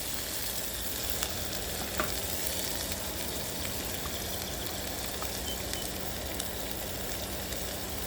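Vegetables sizzle steadily in a pan for a short, gentle cook, a continuous broadband frying hiss with faint occasional clicks and no talking.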